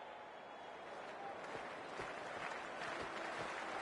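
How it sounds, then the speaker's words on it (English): A video game cricket match crowd, a steady wash of cheering and applause from a large stadium audience, fairly soft and continuous, swelling slightly toward the end while a commentator speaks over it. "already the crowd is up and about"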